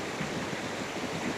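A waterfall on the Cwm du Glen trail near Pontardawe, Swansea, heard from right in the stream: a continuous, close rush of falling and splashing water, even and unbroken, with no voices.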